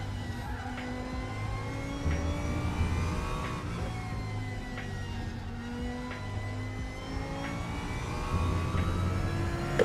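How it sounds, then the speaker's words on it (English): A screaming V10 race car engine in the RaceRoom racing game, revving high with repeated rising pitch sweeps broken by quick gear shifts, loud and sustained across the whole stretch. "whereas this sounds like a screaming V10"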